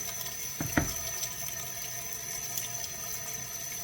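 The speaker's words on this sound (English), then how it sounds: "I'm just putting some cold water on them just to keep them from, you know, turning too brown." Cold water runs and splashes steadily over sliced apples for an 1796-style apple pie, a faint, continuous trickle close by with a couple of small clunks near the start.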